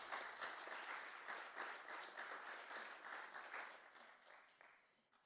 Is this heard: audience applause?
yes